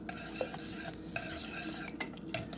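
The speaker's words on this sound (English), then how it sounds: "So now I'm just going to whisk this" A whisk scrapes and taps rhythmically around a pot of butterscotch pudding with melting butter, soft close clinks and swishes, fairly quiet with no voices.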